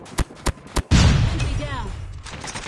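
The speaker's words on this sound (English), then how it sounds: "Flashbang!" Three quick, sharp gunshots ring out in a multiplayer shooter game, then a flashbang grenade goes off with a loud, close blast and a ringing tail that slowly fades.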